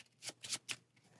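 A Marvel Champions encounter deck of game cards being shuffled, soft riffling bursts in three quick rhythmic pulses, close and quiet with no talk over them.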